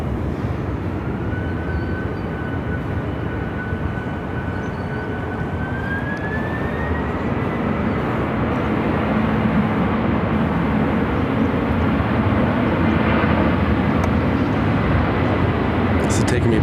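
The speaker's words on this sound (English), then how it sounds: "converted 767-300ER. Delta 1447, departure." Delta 767-300ER jet departing Phoenix airport, a broad steady engine roar with a rising whine, heard at a distance while people talk over it throughout.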